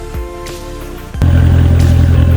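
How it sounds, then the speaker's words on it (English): A 2018 Corvette Grand Sport convertible fires up partway through, going from a quiet idle to a loud, deep, steady engine rumble close by. "I just love the way this car sounds."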